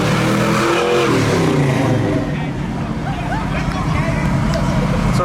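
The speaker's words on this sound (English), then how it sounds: "That's what muscle cars like to do, is burnouts." A muscle car at a car show revs its engine hard during a burnout, a loud, continuous roar that rises and falls, with a crowd talking over it.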